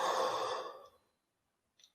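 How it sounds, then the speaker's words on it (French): A long, breathy yawn fades out over about a second, then silence, with a small soft breathy sound near the end. "je commence déjà à bâiller"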